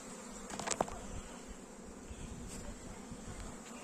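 Soft, steady buzzing from many honeybees at a hive hums throughout, a low continuous drone with a few brief louder passes close by.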